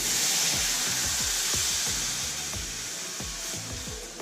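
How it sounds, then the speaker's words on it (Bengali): Milk poured into flour that has been fried in ghee, giving a steady broad hiss and sizzle with soft repeated low thumps, close and fairly loud throughout. "এবার আমি এর মধ্যে দিয়ে দিচ্ছি দুধ"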